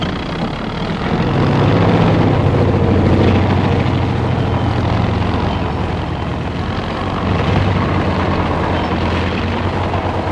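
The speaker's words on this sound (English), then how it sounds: "Big tractor dozers handle the assignment." Heavy tractor dozers clearing debris rumble and drone steadily, loud and close, with a deep throbbing roar that swells and eases.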